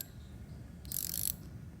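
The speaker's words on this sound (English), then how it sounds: "We are putting the brake side faceplate on" A metallic ratcheting clatter of about half a second while a brake side faceplate is fitted onto a GE Wind 30 NM pitch motor, model FP9-4001. It stands out alone against a quiet workshop background.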